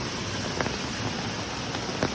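Heavy rain pours down in the Gir forest, a dense, unbroken hiss of falling water with occasional louder splashes, steady and close throughout with no voices.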